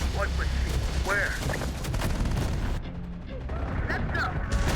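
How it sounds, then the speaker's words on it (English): In the video game Terminator: Dark Fate - Defiance, repeated gunfire crackles under ongoing game sounds, with bursts of shots mixed with mechanical noise and a brief drop in the middle. "Why am I hearing gunfire?"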